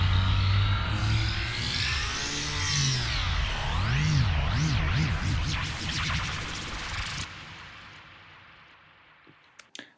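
A frozen and flattened Sylenth1 synth effect with a faster rate: dense buzzy tone that wobbles and warbles in quickening sweeps, then stops abruptly, leaving a fading tail and a few faint clicks.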